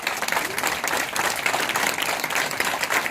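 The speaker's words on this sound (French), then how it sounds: "je demande de l'applaudir" Audience applause at a municipal election campaign rally in Pierrefitte, many hands clapping close and loud in a dense, steady burst, with light crowd murmur underneath.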